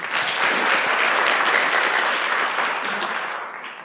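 Sustained, dense applause from a seminar audience at a network-marketing talk, loud and steady throughout, tapering slightly toward the end with no voices over it.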